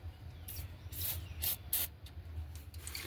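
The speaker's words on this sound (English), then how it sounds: "get some penetrating oil" Several short hissing bursts of penetrating oil sprayed from an aerosol can during a water pump replacement on a 2003 Cadillac Escalade 6.0, quiet and close, in uneven pulses over a low background hum.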